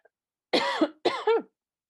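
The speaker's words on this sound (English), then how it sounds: "Excuse me, I'm going to cough." Two close, loud coughs in a row, each a rough burst, heard alone against silence.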